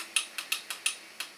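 Stepper motors on an Anet A8 3D printer switching off, giving about seven sharp, bright mechanical clicks in quick, slightly uneven succession, close and alone.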